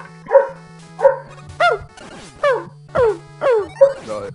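A dog barks repeatedly, about seven sharp, evenly spaced barks close by, with beeping chiptune music from a Rockman game running underneath.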